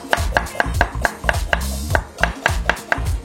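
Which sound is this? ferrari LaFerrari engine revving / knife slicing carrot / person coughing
knife slicing carrot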